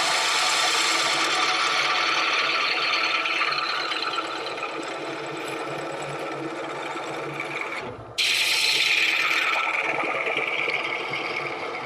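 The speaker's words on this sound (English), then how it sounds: "I want to be able to get my fingers down in there to sand that a little bit." Hand sanding inside a hollow-turned wooden vessel gives a continuous close, coarse rasping rub that runs throughout, briefly dipping near the end before resuming.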